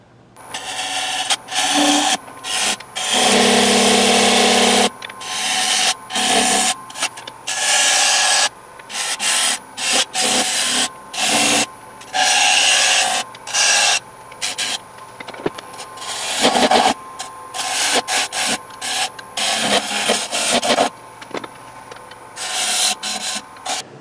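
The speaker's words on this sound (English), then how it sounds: "So the first thing to do is turn a nice big groove for my epoxy putty." A wood lathe cuts a groove into a turned bowl, giving a loud rasping, scraping sound in repeated bursts of varying length separated by short pauses as the tool engages and withdraws.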